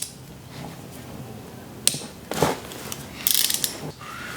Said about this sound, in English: First, let's remove the bolts